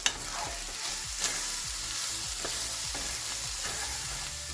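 Food sizzling and frying in a single pan while being stirred, with steady crackle and a series of regular scraping stirring strokes, close and fairly quiet, no talking.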